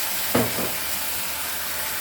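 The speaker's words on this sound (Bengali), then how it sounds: "আদা রসুন বাটা দিয়ে দিচ্ছি।" Ginger-garlic paste drops into hot oil for a chicken curry, with a sharp burst as it hits the pan, then a steady, close sizzle that keeps going.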